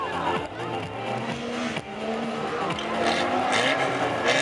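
Stock car racing on a track, where a car's tyre comes off its rim: racing engines roar close and loud with tyre squeal and skidding scrapes over a constant motor drone.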